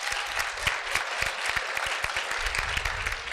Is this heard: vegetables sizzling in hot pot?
no